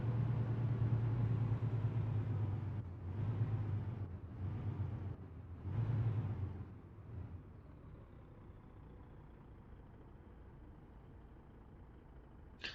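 A Kenworth T680 truck engine in American Truck Simulator rumbles loud, dipping and surging through several quick gear shifts before settling into a quieter steady drone.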